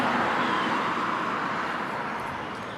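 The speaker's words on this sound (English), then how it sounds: "Pardon the traffic noise." Steady traffic roars past on a busy road in front of a homestead porch, a continuous broadband wash of passing cars with no break, fairly loud and close.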